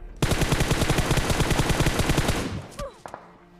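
A long, rapid burst of automatic gunfire rattles steadily for over two seconds in a battle royale shooter, followed by a few scattered clicks and faint game sounds as it stops.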